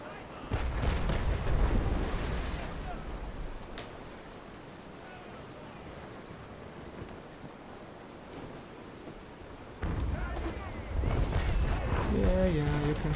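Ship cannons firing in the naval video game Naval Action: heavy, rumbling booms roll out at the start and again later over a constant wash of ocean waves and wind, with a voice briefly near the end.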